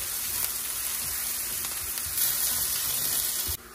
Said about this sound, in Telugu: నూనె కాగింది, ఇప్పుడు పోపులు వేస్తున్నాను.